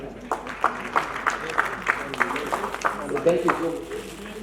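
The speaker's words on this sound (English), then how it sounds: "Another round of applause." Audience applause at a Nigerian product unveiling ceremony, a crowd clapping steadily at moderate loudness with a voice speaking over it.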